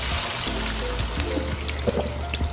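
Water pours into a pot of chicken afritada with potatoes and carrots, a close, continuous trickling and splashing stream lasting a couple of seconds.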